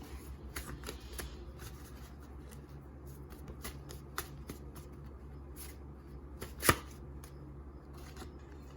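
Cards riffle and slap together in a series of quick, close shuffles, with one sharper snap near the end, against a quiet room hum.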